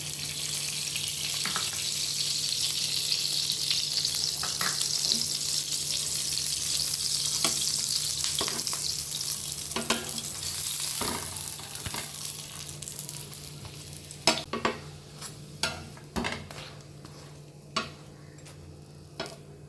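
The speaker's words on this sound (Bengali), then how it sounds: "এইভাবে বানিয়ে নিয়েছি একটা একটা করে, এবারে ভেজে নেব। কেউ চাইলে ঘি দিতে পারে, আমি ঘি দিয়ে দিচ্ছি।" A chicken cheese paratha fries in ghee with a loud, steady sizzle for most of the time, then the hiss thins out as sharp spatula taps and scrapes ring out near the end.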